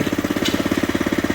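A two-stroke engine on a wood elevator, choke seized, fires and chugs in a steady fast rhythmic pulse close by, with no talking.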